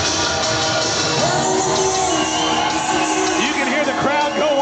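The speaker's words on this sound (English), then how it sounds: "You can hear the crowd go wild for Jesse, obviously a hometown favorite" Hometown crowd at an MMA fight in Indiana roaring and whooping for a local debut fighter, a continuous loud wall of cheers and yells with scattered shouts.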